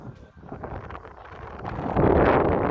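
Strong wind on the Mekong riverbank buffets the microphone in rough gusts, swelling into a louder roar toward the end.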